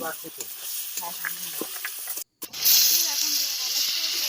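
Onion and garlic paste frying in a pan for village-style desi chicken kosha, a hissing sizzle under a person talking, then a short break and a louder, brighter burst of frying.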